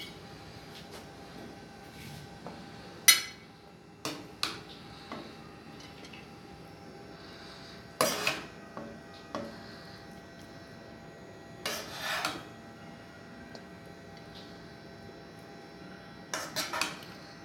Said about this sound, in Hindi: अब इसको मैं डिश में सर्व करूँगी।